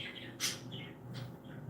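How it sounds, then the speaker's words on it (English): Pet birds in a cage give a couple of short, bright chirps, faint against a low room hum. "you can hear the bird chirp away in the cage"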